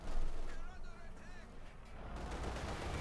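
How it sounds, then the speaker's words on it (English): Anti-tank strafe attack in Company of Heroes 2, a burst of loud gunfire and explosive rumble from an aircraft run, with whining tones in the middle and a sustained low roar, over game battle noise. "Almost got the K1 there with the anti-tank strafe"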